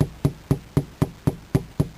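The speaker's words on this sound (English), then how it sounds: "it's easier for me to tap it with the hammer to get it to pop back on the frame" A hammer taps an RV window back onto its frame in eight evenly spaced, close, sharp knocks, roughly four per second.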